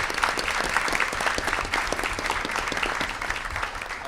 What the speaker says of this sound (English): So I want to give Professor Berry a round of applause.